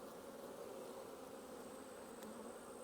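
Honey bees buzz steadily around an open hive during colony inspection, a continuous soft drone of many wings, faint and close, with no talking.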